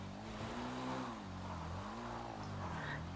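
A video game car engine in GTA Online revs up and down repeatedly while climbing a cliff, pitch rising and falling with each acceleration, close and steady with a faint tire squeal.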